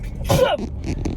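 A single short sneeze bursts out close by, followed by brief breathy sounds, in an indoor room.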